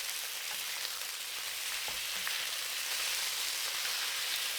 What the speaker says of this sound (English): When the oil is very hot, add the pieces of beef. Spread them well and let them sear for 20 seconds